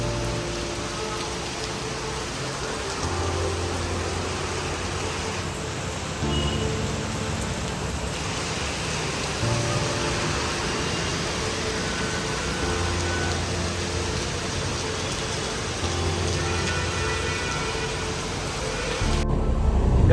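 Heavy rain pours steadily outdoors in a downpour, a dense unbroken hiss that swells slightly midway and stays loud throughout, with no talking.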